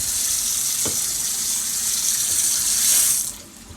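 Water pours steadily from a kitchen tap into a pot of rice, a continuous close hissing splash that holds level for about three seconds before cutting off, with no talk.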